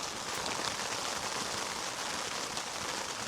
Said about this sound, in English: We had a little bit of a 15-20 minute stoppage of rain, and it's coming back up again